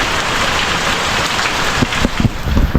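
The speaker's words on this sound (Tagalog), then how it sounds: "Kasi lakas ng ulan no" Heavy rain pours steadily, a dense hiss of drops drumming on surfaces, growing slightly louder and splashier toward the end.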